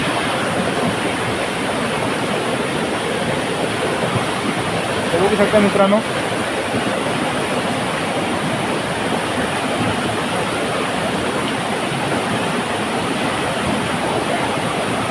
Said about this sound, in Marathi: पाणी बघा, पाण्याला प्रेशर वगैरे भरपूर आहे पाणी